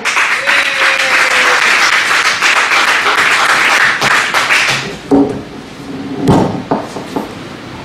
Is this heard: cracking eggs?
no